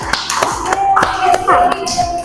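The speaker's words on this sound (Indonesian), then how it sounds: "beli tepuk tangan untuk kelompok 1." A school class claps for a student group, a short burst of scattered, uneven hand claps with a few distinct sharp slaps, close and fairly loud.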